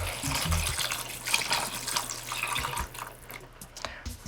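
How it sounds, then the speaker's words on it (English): Liquid brine pours into a pot of Taiwanese beef noodle soup over cooked-down onions and tomato, a steady splashing gush lasting several seconds with a low hum underneath. "We'll add 2 cups of brine."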